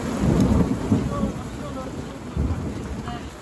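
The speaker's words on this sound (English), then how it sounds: "Just broke right above us, and here's the hailstones." A thunderstorm breaks directly overhead, with heavy rumbling and wind buffeting the microphone, along with the dense patter of hail and rain, loud and close outdoors.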